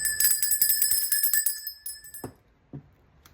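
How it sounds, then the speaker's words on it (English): A small hand bell rings rapidly with bright, shimmering repeated strikes that fade out, followed by two soft knocks or clunks near the end. "Where's my bell?"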